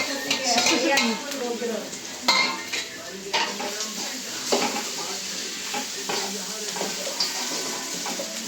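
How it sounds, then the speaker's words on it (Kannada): Cut vegetables tipped into a hot pan for homemade vegetable fried rice, giving sizzling and frying with repeated clinks and scrapes of a spoon stirring against the pan, fairly close and with no talk over it. "ಇವಾಗ ವೆಜ್ಜೀಸ್ ಕಟ್ ಮಾಡ್ಕೊಂಡಿದ್ದೀರಿ, ಅದನ್ನ ಹಾಕೊಳ್ಳೋಣ."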